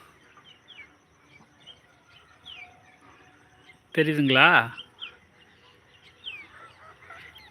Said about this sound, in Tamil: கருவாட்டு வாலி பாருங்க அந்த வாழை பிடிச்சி ஆட்டி ஆட்டிகிட்டு விளையாடும் கிச்சு கிச்சு கிச்சு கிச்சுன்னு கத்திக்கிட்டே இருக்கும்